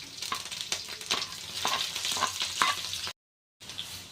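Dried and green chillies frying in hot oil for mango chitranna, a dense crackling sizzle with sharp pops and a stirring rhythm, close and steady before a short silent gap, then the sizzle resumes.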